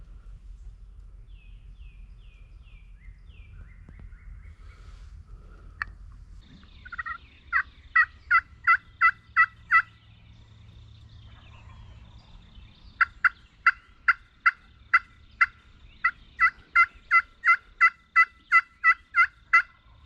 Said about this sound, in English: Turkeys coming from 2 directions.